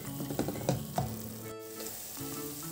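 Masala paste with cashews fries and sizzles in a pan while being stirred, making a steady close crackle with a few scraping stirs over about three seconds.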